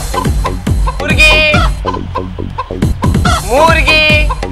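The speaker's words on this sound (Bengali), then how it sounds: "মুরগি মুরগি" Chickens cluck and squawk loudly at close range, with a burst of calls repeating in quick, uneven bunches and no talk over them.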